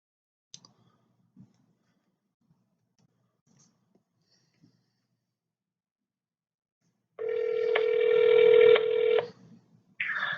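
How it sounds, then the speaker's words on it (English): A phone call being placed: a few faint clicks, then a steady loud electronic ringing tone for about two seconds, with a second ring just starting at the end. "Let's get him on the phone."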